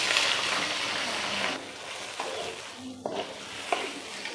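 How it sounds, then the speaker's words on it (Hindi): Potatoes frying in a pan for a khatta aloo dish, with a steady sizzle and occasional stirring scrapes and clicks, close and continuous. "तो यहाँ पे अल्हम्दुलिल्लाह हमारे आलू फ्राई हो चुके हैं।"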